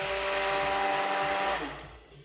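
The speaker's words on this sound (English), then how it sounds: "I keep on adding it into my soap butter as I'm stirring." An electric mixer whirs at low speed while strong alkaline solution is stirred into soap butter for bar soap. The steady, loud, close drone holds, then winds down and fades near the end.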